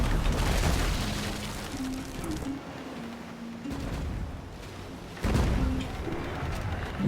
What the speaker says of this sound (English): That went through my man's sails and took him down for decent damage